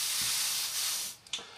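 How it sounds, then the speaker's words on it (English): Short bursts of airbrush spray hissing onto the plastic of a Trumpeter 1/32 AV-8B Harrier model kit, a soft close hiss that fades out, followed by two quick sharp puffs. "So we just spray the centre"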